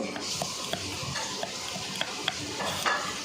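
A soft, steady sizzle of chopped garlic frying in oil, with light scraping and tapping from stirring in the pan.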